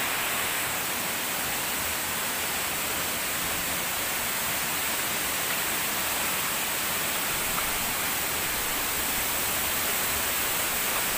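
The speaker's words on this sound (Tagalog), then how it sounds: "Talagang makikita mo talaga yung tubig na bumabagsak." Water pours steadily down Walang Langit Falls, a dense, unbroken roar of falling water that stays loud and constant throughout, with no voices over it.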